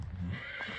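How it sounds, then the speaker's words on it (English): Young, small horses give a brief neigh, close by, over a low rumbling background outdoors on a summer holiday visit. "see all the horses"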